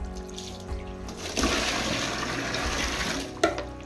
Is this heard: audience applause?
no